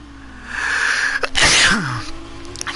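A single loud sneeze bursts out mid-race during an F1 2019 Formula 2 session at Spain, over the steady hum of the game's engine sound, with a quick falling tone after it.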